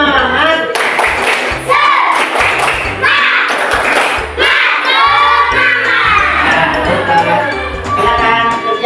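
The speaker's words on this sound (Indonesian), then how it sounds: "Bapak minta tepuk semangat." A classroom of students performs a rhythmic spirit clap in unison, sharp patterned bursts of claps and table thumps with shouted chants and children's voices mixed in, loud and close.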